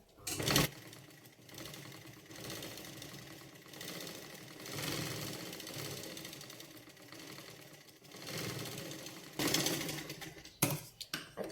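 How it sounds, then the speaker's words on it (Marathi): A sewing machine topstitches along a blouse sleeve seam, running in several sustained whirring bursts separated by short pauses, moderately close and alone. "याला वरून एक डापटीप देऊन घ्यायची"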